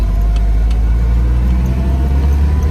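An old Toyota Corolla AE86 engine idling loudly and steadily, with a heavy low rumble and rough mechanical noise throughout, close by.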